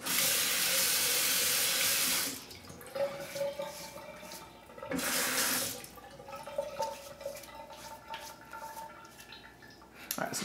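Tap water runs into a sink to wet a shaving brush and loosen a pasty shaving soap, two strong bursts of flowing water with quieter handling and dripping sounds in between.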